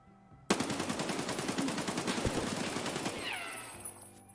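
Full-auto rifle fire in the shooter game Escape from Tarkov: a loud, close, unbroken burst of rapid shots lasting about two and a half seconds, then fading echoes and a faint tail.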